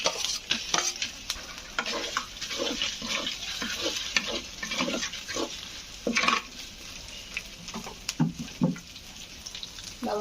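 Shrimp and ginger-garlic paste hiss and sizzle steadily in a pan for a Bengali home-cooked family meal, with repeated scraping stirs running through the whole stretch. There is no talking.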